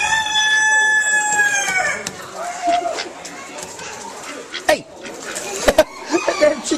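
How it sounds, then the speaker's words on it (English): Chickens cluck and squawk close by in a carnival setting, with scattered short calls overlapping people talking nearby. "Chicken just tried to bite me."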